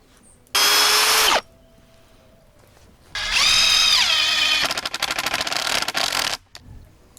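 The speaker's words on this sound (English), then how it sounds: "then just drill the hole, one from this side and one from the other side" Power drill boring holes into a plastic compost bin, a short high whine burst, then a longer run that rises in pitch and chatters as the bit cuts through, close and loud.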